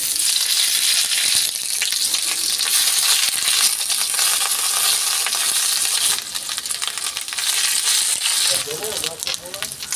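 Gourd leaves sizzling in hot oil in an iron wok, a loud continuous crackling fry with occasional stirring scrapes, someone speaking over it near the end.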